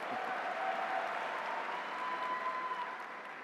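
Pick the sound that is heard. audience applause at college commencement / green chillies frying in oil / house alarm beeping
audience applause at college commencement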